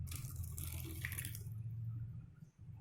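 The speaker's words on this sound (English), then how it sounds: "add some water to make solution in each glass" Water poured into glasses for a lemon juice and tartaric acid solution test, a steady splashing pour for about one and a half seconds that then fades into quiet room noise.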